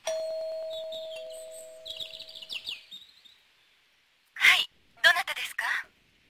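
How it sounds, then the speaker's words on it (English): A doorbell rings in the Policenauts video game with a sustained electronic chime tone, followed by brief chirpy game sounds and then several short bursts of voices talking. "I'll ring the doorbell."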